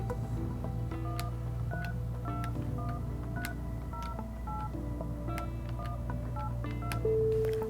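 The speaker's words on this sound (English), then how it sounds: "For all local external calls, you must dial 9 plus the area code and phone number." Telephone keypad DTMF tones from an office phone system beep in a rapid, even sequence of short dialing tones, clear and alone over a faint steady hum.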